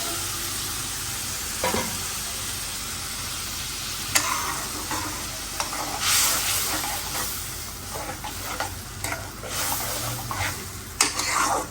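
Shrimp frying in a small pan, a steady close sizzle broken by repeated scrapes and knocks of a utensil stirring them, with no talk.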